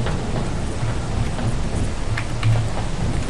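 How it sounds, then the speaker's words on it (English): Steady rain with rumbling thunder during a storm in the game Lethal Company, a continuous wash of rainfall with a low thunder roll swelling near the end. "Here, it's lightning."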